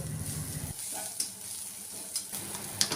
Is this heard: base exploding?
no